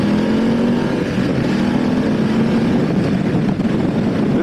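A 2019 BMW F 850 GS motorcycle runs steadily beneath the rider, its engine producing a continuous, loud drone with a constant tone and no voices.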